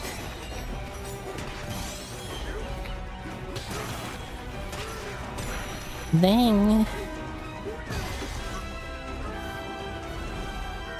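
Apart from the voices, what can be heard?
Donkey Kong smashing through objects in a video game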